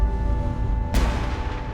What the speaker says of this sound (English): At Whitehall, the King hears the cannons.